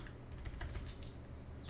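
A computer keyboard is typed on in quick, light clicks, faint and steady, over a low background hum.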